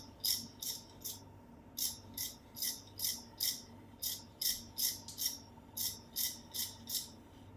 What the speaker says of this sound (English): make all scratches in one direction